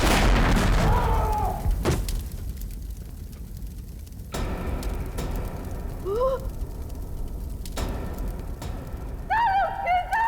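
Bomb blast effect in a Hindi CID police TV drama, a sharp boom near the start followed by rumbling debris and further thuds, with brief high-pitched sound effects and a few voices later.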